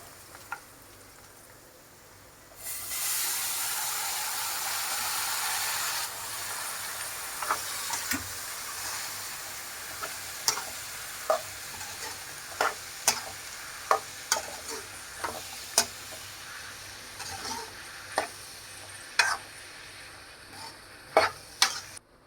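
Tomatoes hit a hot pan of browned onions and curry leaves with a sudden loud sizzle, then settle into a quieter frying hiss broken by sharp scrapes and clicks of stirring.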